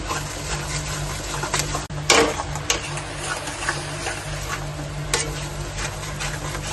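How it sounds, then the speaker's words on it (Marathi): Masala fries in oil for mutter paneer while being stirred, a steady close sizzle with scraping stir strokes and a few sharper clinks against the pan. "तेल सुटेपर्यंत आपल्याला मसाला फ्राय करायचा आहे."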